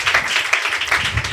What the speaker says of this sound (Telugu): చప్పట్లు కొట్టి ప్రభును ఘనపరచడం గాక